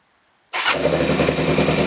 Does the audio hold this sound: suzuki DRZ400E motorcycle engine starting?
yes